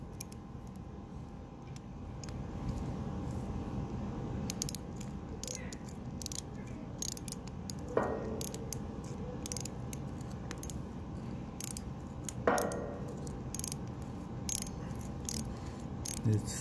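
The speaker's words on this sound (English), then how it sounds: "And I'm going to use a socket wrench to crank it down." A socket wrench ratchets a Tapcon cement screw down into masonry, giving a steady series of sharp clicking ratchet strokes over a low background hum, with two longer creaking turns partway through.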